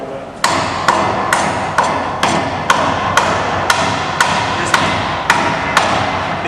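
Big screwdriver hammered to knock the end cap out of a shaved baseball bat, about fourteen sharp, evenly spaced metallic strikes, loud and close, repeating at a steady rhythm.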